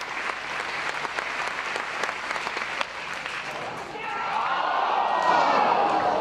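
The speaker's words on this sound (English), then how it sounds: "I'll have a clap." A spectator at the Sydney Track Classic claps loudly during the pole vault, amid stadium crowd noise. The claps are sharp and repeated, with commentary over them, before the crowd swells toward the end.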